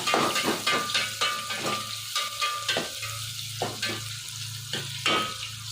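Onions frying in oil for Malenadu-style radish sambar, a loud close sizzle broken by rhythmic spatula stirring and scraping against the pan, repeated every half second or so, with no speech.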